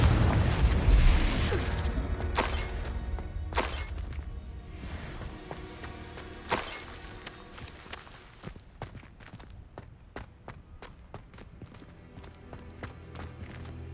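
Confringo explosive spell blasts in Hogwarts Legacy: a loud, booming opening burst followed by a string of sharp, separate impacts that thin out and fade into quieter crackling.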